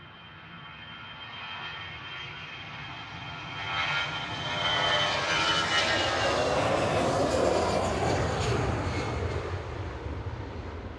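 An airliner in EasyJet Holidays livery flies past at Manchester Airport, its engine roar swelling to a loud broad rush with a sweeping pitch shift, then slowly fading.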